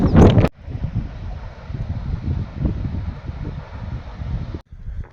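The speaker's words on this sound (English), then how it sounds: "This wind's relentless, man." Strong gusting wind buffets the microphone on an exposed stretch of the South West Coast Path between Padstow and Newquay, a steady loud roar with a sharp burst at the start and a brief drop near the end.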